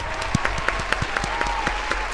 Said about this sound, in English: I have to give you a round of applause.